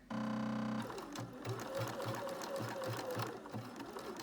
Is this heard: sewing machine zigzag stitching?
yes